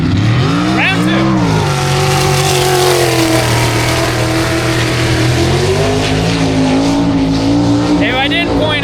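Race cars competing on a track, loud engines revving and shifting with rising and falling pitch, some tire noise, with a voice talking over the racing.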